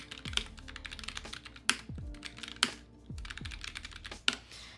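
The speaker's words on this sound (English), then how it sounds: "it is a mechanical keyboard, so it sounds great" Typing on a 75% mechanical keyboard for a Galaxy Tab S8 book cover case, a close, steady flurry of crisp key clicks with a few heavier thocks from larger keys, no voices.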